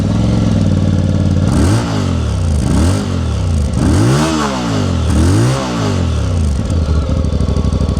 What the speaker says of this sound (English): You want to know exactly how it roars.